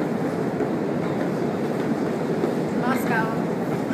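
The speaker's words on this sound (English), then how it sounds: "We're taking the metro." Moscow metro train rumbling steadily and loud throughout, with a dense low roar, a brief squeal or screech near the end, and voices mixed into the noise.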